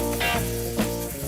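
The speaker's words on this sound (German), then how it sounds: "Im Olivenöl anbräteln." Meat browning in olive oil in a pan, with a steady close sizzle and crackle running throughout, rising in short bursts as pieces hit the hot oil.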